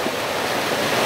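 Rushing water of the Bhalu Khola stream in the monsoon, carrying stones along its bed, a steady broadband roar close by with no voices.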